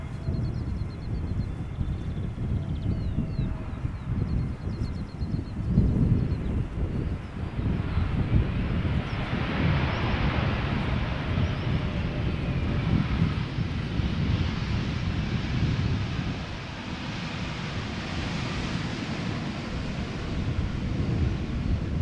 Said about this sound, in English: A320neo KLM Malta arriving from Malta, 2 hours 53 minutes it has flown to get here